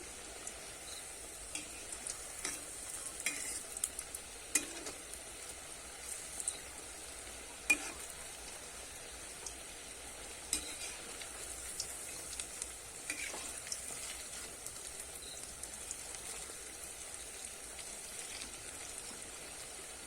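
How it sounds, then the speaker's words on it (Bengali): Carrot chushi pitha frying in oil in a pan, a faint steady sizzle with scattered light clicks and scrapes as the pieces are gently stirred. "এবার আমি একটুখানি নেড়ে দেবো"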